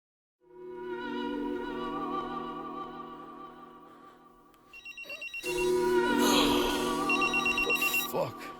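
A telephone rings in a repeating electronic ring pattern, first steady and then louder and busier with extra tones layered over it, with no voices.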